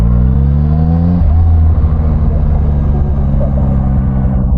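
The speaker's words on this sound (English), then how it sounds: "Twist the throttle." A Zontes 703R motorcycle engine revs up as the throttle is twisted, a loud close rising and falling drone with rumbling harmonics over a few seconds, no talk.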